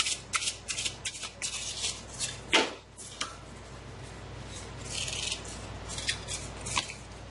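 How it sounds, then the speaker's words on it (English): Tarot cards being shuffled by hand, a series of quick papery riffles and soft flicks with short pauses between bursts, close and fairly quiet. "Okay, many cards dropped there, so putting them back and shuffling."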